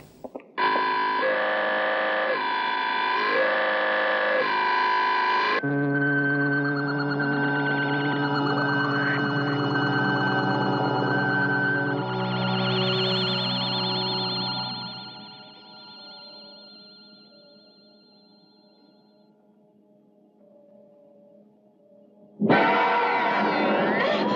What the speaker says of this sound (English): Instead, now they'll sound the alarm.